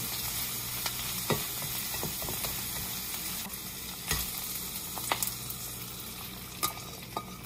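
Chopped vegetables, including carrots, sizzle in a pan as eggs go in for a vegetable omelette. Over the steady frying hiss come several sharp taps and clacks, then stirring and scraping.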